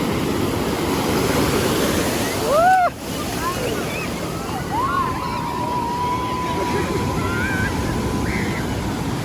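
Atlantic Ocean surf washing onto Copacabana beach in Rio de Janeiro, a steady broad rush of waves with wind on the microphone and a faint distant siren wailing in the background.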